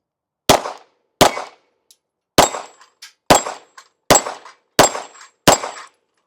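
Seven sharp Springfield Echelon pistol shots at a steel target, spaced roughly evenly at an outdoor range, each a loud crack with a faint metallic ring trailing some of the later hits.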